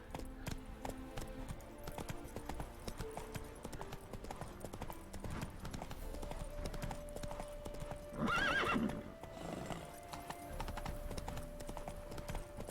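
Roach, a horse in The Witcher 3, clip-clops in a steady gallop under game music, and a short whinny cuts through partway along.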